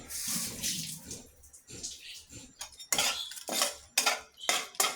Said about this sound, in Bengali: এখানে কড়াইতে পেঁয়াজ দিয়েছি